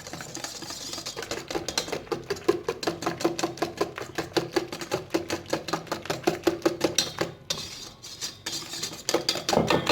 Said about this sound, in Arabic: نحرك حتى هو مزيان.